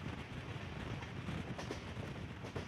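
A train ride inside an AC three-tier coach travelling from Secunderabad to Bapatla: a steady, low, muffled rumble with faint wheel clatter throughout, quiet and continuous, with no voices.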